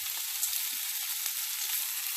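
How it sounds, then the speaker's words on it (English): Thinly sliced cheesesteak meat sizzles in hot oil in a pan, a steady bright frying hiss with small crackles, close and continuous with no talking. "Nice sizzle when you put it in there."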